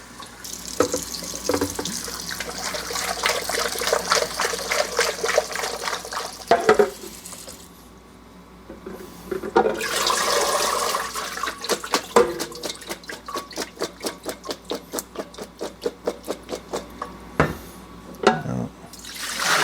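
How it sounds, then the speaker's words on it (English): Running tap water splashes over cut potato fries being rinsed of starch in a sink, with sloshing and brief pauses, close by and fairly loud. "Now I'm going to give them one more quick rinse just to remove the starch."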